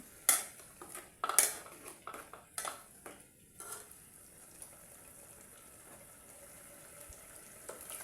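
Metal utensils clatter and scrape against a pot of ogbono soup in a few loud bursts early on, then settle into quieter stirring with faint kitchen background.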